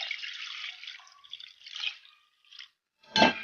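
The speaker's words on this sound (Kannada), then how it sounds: "ಸ್ವಲ್ಪ ನೀರು ಸೇರಿಸ್ಕೊಂಬಿಡೋಣ." Water trickles and pours into a pot of mashed cooked toor dal for drumstick sambar, a few short close splashing pours separated by brief pauses, ending in a louder splash.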